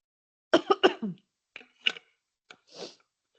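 A person in an online investment class coughs in a short burst of three quick hacks, then a couple of smaller, scattered coughs and a throat-clearing, close to the microphone against silence.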